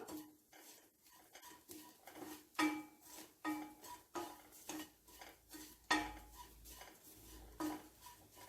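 A metal spoon stirs roasted coconut masala with added cardamom powder in a pan, giving steady rhythmic scrapes and clinks at a moderate, close level.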